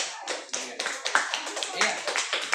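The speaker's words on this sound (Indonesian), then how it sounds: "Oke, tepuk tangan untuk kita semua dulu." A class of schoolchildren claps their hands together, a lively run of quick uneven claps close by, with children's voices mixing in.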